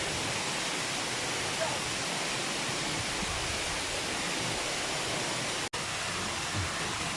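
Brudslöjan waterfall at Nordkroken, Vargön, Sweden, with clean mountain water rushing down in a steady, loud, broadband roar that stays constant throughout, with no talk over it.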